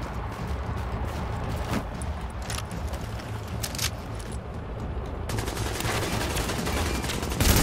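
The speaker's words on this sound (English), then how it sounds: "Yeah, I can shoot his feet." Rapid, continuous gunfire from the video game The Division, a steady dense barrage throughout with no talking, growing louder and harsher toward the end.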